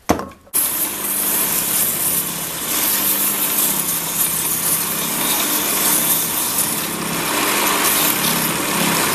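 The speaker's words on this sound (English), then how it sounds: "to get it silky smooth, I'm going to take it over to the strip sander and finish her up" A strip sander smooths a wooden shovel handle, a loud, close, continuous abrasive rasp over a motor drone that starts abruptly and runs steadily to the end.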